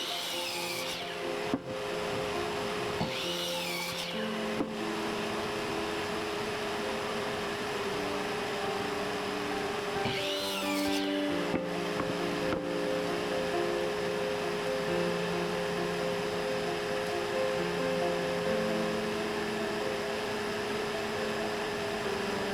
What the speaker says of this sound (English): I don't know why I use this shop vac.